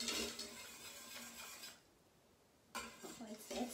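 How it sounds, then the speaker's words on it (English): A spoon scrapes and clinks around a pot while Newfoundland-style gravy is stirred, quiet metallic rubbing with a brief pause before the stirring resumes, with no talking. "Just keep stirring."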